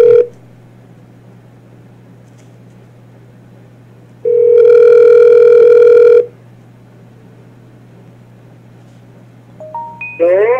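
A telephone ringing tone, one loud steady electronic ring lasting about two seconds after a brief opening tone, ending with a rising burst of tones, over a low constant hum.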